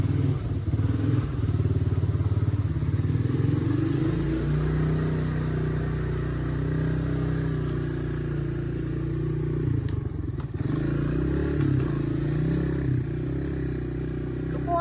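An ATV engine idles steadily after starting, a continuous low rumble close by with a brief clatter partway through, and no voices over it.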